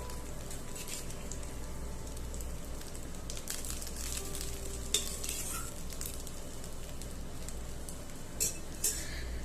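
Cooled cooked rice is stirred into mint masala in a hot pan: a continuous frying sizzle under scraping stirs, with a few sharp utensil clinks against the pan near the end.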